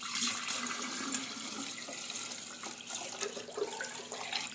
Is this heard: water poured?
yes